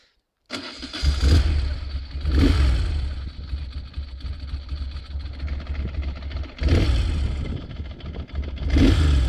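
A Moto Guzzi V11 Sport motorcycle standing still while its V-twin engine is revved in short throttle blips, each rising sharply and falling back to a deep idle, close and loud, four distinct revs in all.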